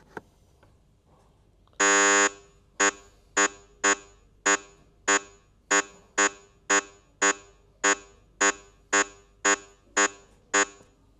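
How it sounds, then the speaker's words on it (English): Harsh intermittent pulse composite test tone for a hearing aid testbox: one longer buzzy burst followed by a steady series of short, evenly spaced beeping pulses, clear and alone. "a new intermittent pulse composite tone was introduced"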